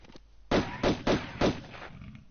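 Four loud, sharp gunshots from Tomb Raider ring out in quick succession with short pauses between, close and punchy, with no talking over them.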